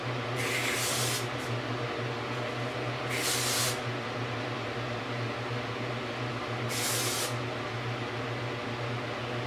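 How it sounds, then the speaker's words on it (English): Three short bursts of a hairspray can hissing, each about half a second, over a steady low electrical hum. "I'm just gonna take the hairspray and I'm gonna spray all of this"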